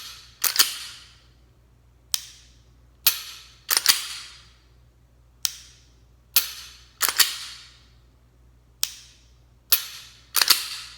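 Sharp metallic clicks from a Glock 26 pistol as the trigger is pulled and reset after reassembly, about a dozen crisp snaps in irregular pairs and singles, close and loud in a quiet room.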